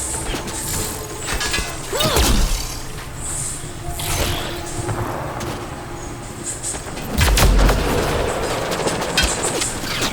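Gunfire and crashing impacts during a firefight in the video game Mass Effect Andromeda, with sharp shots and heavy booms scattered through a busy, loud game soundscape.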